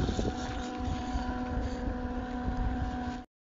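A Chinese-made aerator water pump runs steadily, giving a continuous churning motor drone with splashing water noise that holds evenly for about three seconds before cutting off abruptly.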